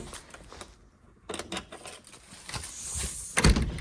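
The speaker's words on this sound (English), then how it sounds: "I gotta close this door." A door in a garden setting is swung shut, with rustling and handling noises building to a firm closing thud near the end, with no speech.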